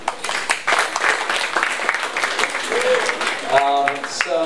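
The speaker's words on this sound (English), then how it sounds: "I'd like a round of applause for all of you." An audience at a mobile-industry panel event in New York gives a round of applause, with steady clapping from a sizable crowd and a voice talking over it near the end.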